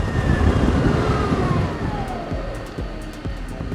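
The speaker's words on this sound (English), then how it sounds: "Now I'm going to apply the brakes." An Ather 450X Gen 3 electric scooter brakes hard from top speed, its falling motor whine and rushing wind noise fading as it slows, with light clicks and knocks toward the end.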